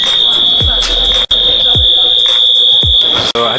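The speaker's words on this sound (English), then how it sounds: "it might have set off some kind of alarm" An alarm aboard an airplane on a flight to Illinois sounds a sustained high electronic tone, loud and continuous, with brief dropouts and low thuds underneath.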